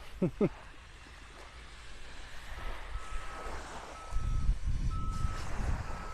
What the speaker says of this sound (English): Construction equipment beeping.